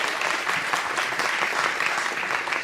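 An audience at a question-and-answer session claps in a dense, even burst of applause, many hands at once, steady and fairly loud with no voices over it.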